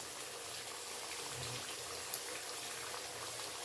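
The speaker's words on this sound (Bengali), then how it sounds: "আলুটা ভাজার জন্য দিয়ে দিচ্ছি নুন" Potatoes frying in hot oil with salt for a chicken kosha give off a steady, faint sizzling hiss that continues without a break, with no voices.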